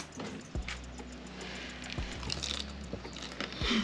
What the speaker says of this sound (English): Is this how you chew crab?